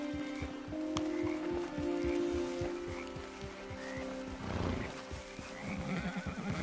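Horses in a PS4 video game, a whinny rising over steady clip-clopping hooves with light rain in the background, moderately quiet and without speech.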